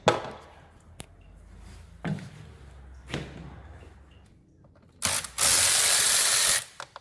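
A ratchet loosens the air filter bolts on a Mini Cooper during a service, with brief clicking bursts spaced about a second apart and then a long, loud continuous rasp of the pawl near the end, close up, with no talking.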